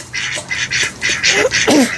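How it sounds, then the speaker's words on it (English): Ducks quack repeatedly nearby, a series of raspy calls in uneven bursts that grow louder toward the end. "Ducks are making all kinds of noise."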